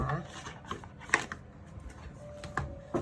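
Tarot cards are shuffled in short, soft, papery riffles and flicks near the microphone, while someone speaks quietly over them.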